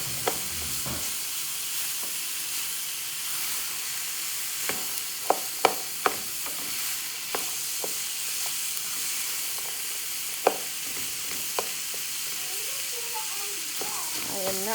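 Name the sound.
onions and celery sizzling in a pan for chili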